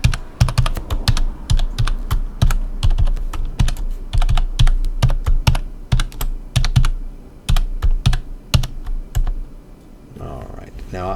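A password is typed on a computer keyboard to set up a Bitcoin digital wallet: rapid, close, loud keystrokes in quick uneven bursts, ending with a soft rustle.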